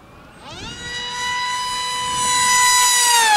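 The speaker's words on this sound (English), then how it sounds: "That motor sounds like it's winding up big time." RC Aurora spy plane model with a Monster Jet motor running on 4S, a rising electric whine that climbs in pitch then holds a loud, steady high scream.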